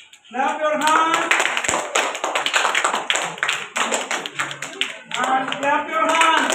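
Steady group applause at a school prize-giving, many hands clapping at once under intermittent spoken announcements from a voice over a loudspeaker.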